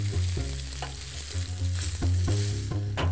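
Flour-dusted fish pieces fry in a pan, a steady close sizzle broken by several sharp utensil scrapes and knocks as the pieces are turned.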